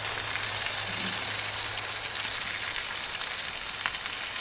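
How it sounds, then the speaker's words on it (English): Bacon and burgers sizzle on a Chargriller grill outdoors, a steady hissing crackle with faint pops, continuous and fairly close with no voices. "Bacon's starting to sizzle."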